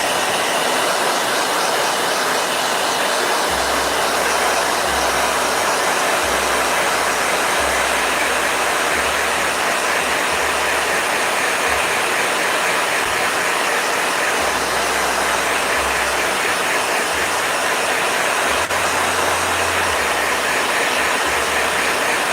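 Handheld blow dryer running steadily at close range, a loud, even airy roar that holds throughout, with a low motor hum shifting slightly now and then and no talking.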